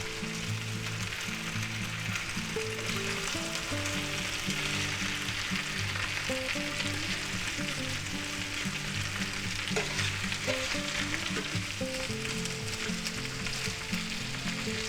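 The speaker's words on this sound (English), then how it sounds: "Give that a little stir." Onions, potatoes and sausage fry in a pan while being stirred, a steady broadband sizzle running the whole time with scraping and clinking from the stirring and a low musical hum in the background.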